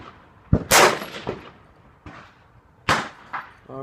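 An AR rifle fires at an outdoor range at 100 yards, a few sharp, loud cracks spaced irregularly with short echoing tails, close to the shooter.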